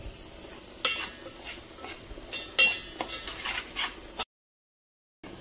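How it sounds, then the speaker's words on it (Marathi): Semolina (rava) dry-roasting in a pan for sheera, with a spoon stirring and scraping against the metal in several sharp strokes over a soft background hiss, then a sudden cut to silence. "आधी रवा जरा भाजून घेते मस्त."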